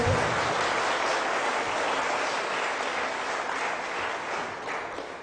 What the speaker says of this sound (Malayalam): ഒന്ന് കൈയടിച്ച് കർത്താവിനെ